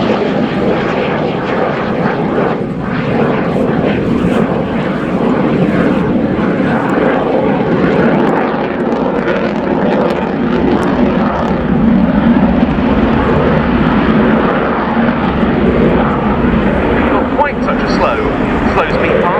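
Polish Air Force Mikoyan MiG-29A jet fighter making a slow speed pass at the RIAT 2016 airshow, a loud continuous engine roar swelling and holding throughout while an announcer talks over it.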